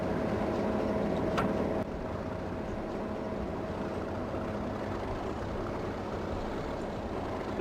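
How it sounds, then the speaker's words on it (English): Locomotive engine in the Open Rails train simulator, a steady low diesel rumble with a constant tone, loud and continuous throughout, dipping slightly in level after a brief click near the start. "this one has a slightly different engine sound"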